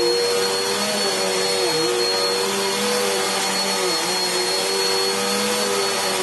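A Dirt Devil Breeze bagless cyclonic upright vacuum cleaner runs continuously at a steady, fairly loud pitch, with a constant whine and hum and no voices.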